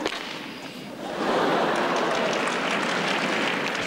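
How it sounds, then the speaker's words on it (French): Tennis crowd applause at the 2003 Basel ATP semifinal, Nalbandian against Roddick, swelling after a second into a loud, dense, sustained wash of clapping that holds steady to the end. "Le fameux tonnerre d'applaudissements"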